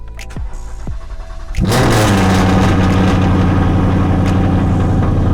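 A car engine starts and settles into a loud, throaty idle, its exhaust droning steadily and close after a few short cranks; a car bought at auction in the USA.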